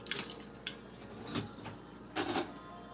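Milk being poured into pink hummingbird cake batter in a mixing bowl, heard up close as a few soft splashy drips and wet plops spread across a few seconds over a quiet kitchen background.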